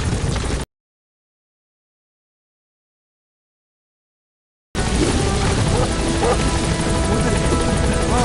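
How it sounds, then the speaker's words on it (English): A support helicopter in Metal Gear Solid V: The Phantom Pain makes continuous rotor noise, loud and close, breaking off into a few seconds of total silence before resuming at full strength. "Support helicopter has arrived."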